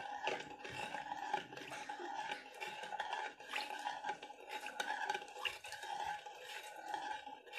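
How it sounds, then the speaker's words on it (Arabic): A spoon stirs sugar around a pot while making Egyptian baked rice pudding, giving a steady, close scraping and swishing that runs without pause and with no voices. "هقلب السكر كويس جدا"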